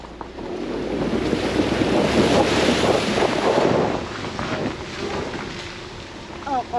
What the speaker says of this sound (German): So, das ist jetzt mal ein Wasserfall hier